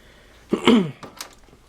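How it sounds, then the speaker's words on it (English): A single short, gruff throat clearing close to the mic, followed by a couple of faint small noises in a quiet room. "Gotta clear my throat."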